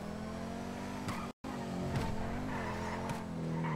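A sports car in GTA V Online roars steadily with a loud, rasping exhaust and engine note, briefly cut by a split-second dropout, with revving swells and tire noise throughout.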